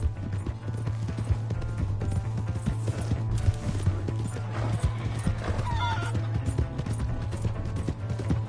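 Horse hooves clatter in a fast, steady gallop in Red Dead Redemption 2, with repeated loud whinnies and neighs over the hoofbeats and a brief shout near the start.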